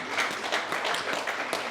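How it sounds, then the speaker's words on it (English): A crowd at a boxing night gives a round of applause for boxer Rob, a steady patter of many hands clapping at moderate volume throughout, with no voices over it. "So just a round of applause for Rob"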